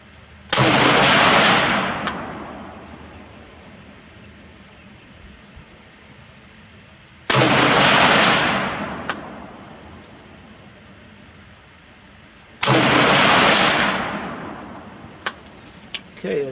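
An IMI X95 rifle in 5.56x45mm fires three loud, close single shots spaced several seconds apart at an outdoor range, each a sharp crack with a long echoing decay into quiet.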